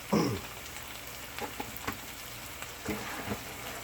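A chicken quinoa mixture is stirred in a pan over a low sizzle, with a few soft scrapes and taps of the spoon spaced across a quiet, faint background hiss.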